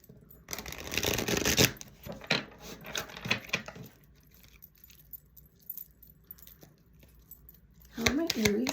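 Oracle cards from a Love Oracle deck being shuffled by hand, a close, crisp riffling and sliding that comes in bursts with pauses and soft handling noises between.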